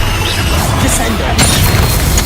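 A Descendo spell strikes in a Hogwarts Legacy fight on hard difficulty: a sudden heavy crashing impact lands about midway through, over a steady roar of spell effects and rumbling combat noise.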